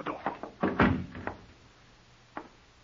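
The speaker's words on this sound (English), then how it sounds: "Keep quiet and shut the door." A door being shut in an old radio drama: a few quiet knocks and bumps lead to a dull thud, followed by a faint click a moment later, with no talking.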